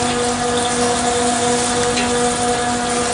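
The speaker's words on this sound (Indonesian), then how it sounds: "keran langsung otomatis terbuka lagi" An automatic water tap on a foot-washing platform gushes steadily, a loud, close hiss of running water with a faint pumping tone beneath, continuous and unbroken.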